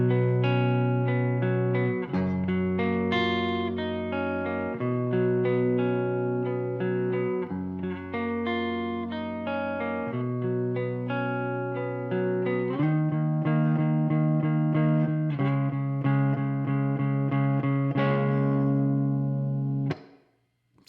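A distorted electric guitar plays an arpeggio that moves into a power chord riff, shifting up to E and back to D: sustained, ringing chords and picked notes in a steady pattern, loud and alone, fading at the end.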